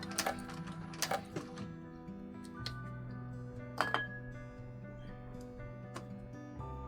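A sewing machine runs a long basting stitch along a piping seam on a handbag exterior, a low steady whir broken by a few sharp clicks and taps, quiet and close.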